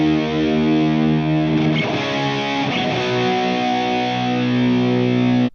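Double-tracked electric guitars, with a PRS humbucker rhythm part added, play through a Fender Hammertone Overdrive pedal: thick, sustained distorted chords ring loud and close, with a brief busier strummed passage in the middle before the chord settles again.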